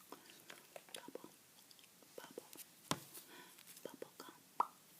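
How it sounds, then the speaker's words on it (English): Bubble gum being chewed close to the mic, soft repeated wet clicks and smacks in an uneven rhythm, with quiet whispering over it. "here's the bubble gum I'm chewing tonight"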